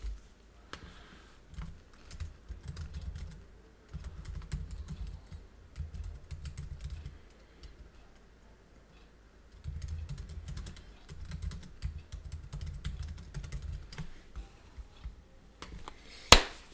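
Fingers type on a computer keyboard, with clusters of quick, close key clicks separated by short pauses and a sharper knock near the end.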